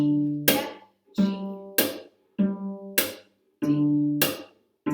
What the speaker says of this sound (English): Where you pluck the note and then just tap your hand or your fingers down on the string